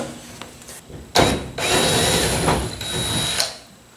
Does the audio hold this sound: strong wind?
no